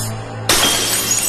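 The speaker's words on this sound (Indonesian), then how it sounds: "Ayah Seon lalu melempar gelas" A thrown drinking glass shatters in one sudden, loud crash, followed by a bright spray of breaking glass after a brief quieter lead-in.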